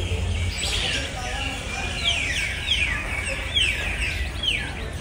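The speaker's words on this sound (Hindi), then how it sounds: "वाह, यहाँ पर इतना पक्षी रहते हैं" Many birds chirp and call at once near a railway station in Tripura, with dense overlapping high twittering through the whole stretch over steady background noise.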